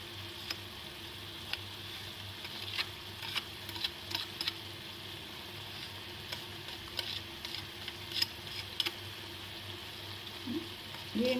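Tomato puree and spices cook in a pan, giving a soft, steady sizzle with scattered faint ticks and pops, quiet and close throughout.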